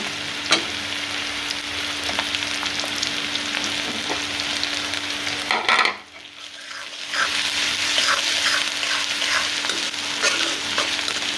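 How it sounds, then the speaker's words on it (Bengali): Vegetables with two green chilies fry in oil in a pan until reddish, a loud continuous sizzle with repeated scraping stirs that briefly drops away before resuming strongly. "লাল লাল করে ভাজি ভেজে নিই"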